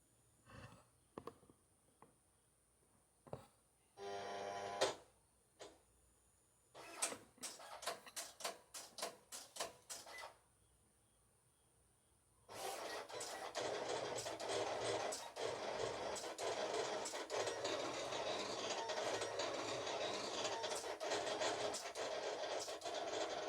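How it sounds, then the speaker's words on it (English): A Silhouette Cameo 4 cutter slices vinyl in a print-and-cut job, with scattered clicks and short whirring bursts giving way to a loud, steady mechanical whir from the carriage and blade that runs to the end, close by. "let's just go ahead and let's just hit"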